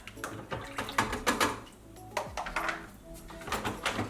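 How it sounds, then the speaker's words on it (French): Plastic lid lifted off a home yogurt maker on a kitchen counter, with a few light clicks, knocks and rattles scattered over several seconds, close and moderately quiet. "Donc j'enlève le couvercle"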